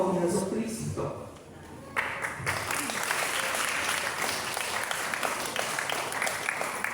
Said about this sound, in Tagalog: Malakas sa palakpak para sa ating mga kapatid.